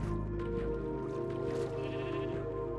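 A sheep bleats in the video game Minecraft, with a few fairly close bleats sounding over a steady low hum of background game audio and no talking.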